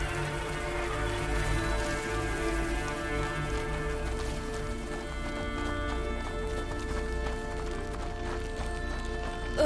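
Game sound from A Plague Tale: Innocence: a horse's hooves clip-clopping in a steady run, faint and continuous over a rain-like hiss and low ambience.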